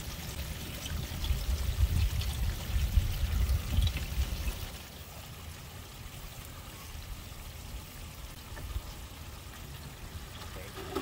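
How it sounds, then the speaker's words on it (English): Water pouring down along a house foundation wall, a loud rushing gush for the first few seconds that then drops to a quieter steady trickle. "without having this major problem of water pouring down along your foundation wall"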